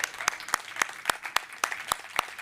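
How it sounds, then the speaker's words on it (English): At a SXSW panel welcoming astronaut Shawna Pandya, a modest audience claps: soft background applause punctuated by about ten sharp, regularly spaced loud claps from one nearby pair of hands. "Huge applause for Shawna."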